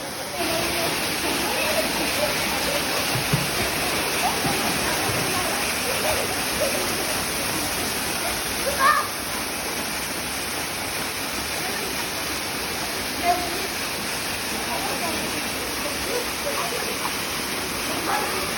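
Water rushes continuously in a steady broad wash, like a river flowing nearby, with a few faint distant sounds over it.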